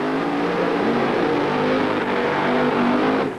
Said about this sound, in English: The quickest and fastest funny car that has ever graced a quarter-mile racetrack